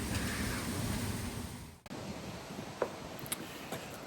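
Steady rushing wind roars against the microphone outdoors, dropping out briefly midway, then continuing with a few faint knocks; no one speaks.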